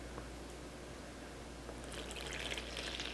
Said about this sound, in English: And then I'm going to pour in my muddy water